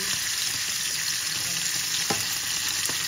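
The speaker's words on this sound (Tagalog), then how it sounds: "Ay, nagpiprito din ako ng isda." Fish frying in a pan of oil in a home kitchen, a loud, steady crackling sizzle throughout with a couple of faint utensil taps, close up and without speech.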